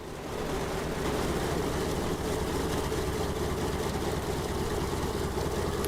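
A Latecoere 631 flying boat engine in MSFS 2024 starts up into a loud, steady droning rumble that holds evenly without voices.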